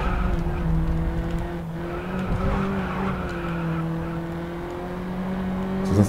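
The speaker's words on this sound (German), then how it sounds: "Das Auto ist mir da ein wenig ausgebrochen." Race car in Grid Autosport breaking loose and skidding, a steady engine drone with sustained tire squeal tones running throughout, loud and continuous with a brief rise at the very end.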